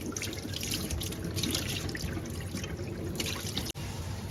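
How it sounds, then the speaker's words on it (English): Rice being washed by hand in a bowl of water while cooking a Gambian dish, a steady close wet swishing and trickling that carries on throughout with no talking. "Gotta make sure your rice is clean."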